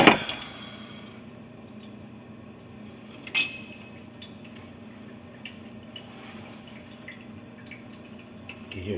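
Water draining from an unclogged water fountain, a steady low gurgling trickle with occasional drips and a brief splashy burst, close and soft, continuing evenly throughout.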